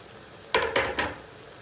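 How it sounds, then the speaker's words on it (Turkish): Four chopped garlic cloves hit hot oil in a frying pan in three quick sizzling bursts, close and fairly loud, then settle to a low hiss. "Burada doğranmış 4 sarımsağım var onu da atıyorum."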